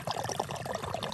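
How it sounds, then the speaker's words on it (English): Water gurgling steadily into the top of a pipe set in a yogurt container held down by a rock in mud, part of a hillside water system; a close, continuous bubbling pour with no talk. "And then you'll hear it once in a while, the gurgles."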